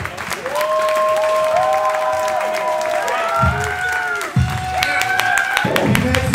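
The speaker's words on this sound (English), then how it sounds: "Y'all really gonna clap for this bitch like that?" A ballroom crowd at a ball applauds and cheers, with steady dense clapping and shouts running throughout, a few louder bursts, and voices mixed in over the noise.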